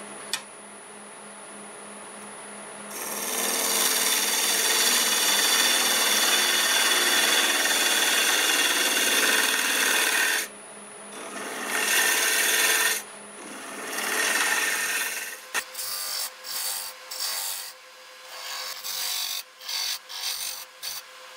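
A wood lathe turns a red cedar piece at about 1100 RPM while a tool cuts it, making a loud, steady scraping rasp. The cutting comes in long passes, then breaks into shorter bursts with brief pauses between them.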